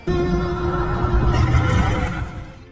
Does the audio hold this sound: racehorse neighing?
yes